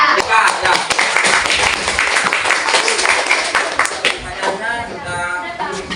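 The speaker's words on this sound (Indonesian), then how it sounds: "beri tepuk tangan untuk kelompok berapa ini?" Students in a classroom clap for a fellow group during a project-based lesson, a dense patter of hand claps running steadily throughout, with voices talking over it.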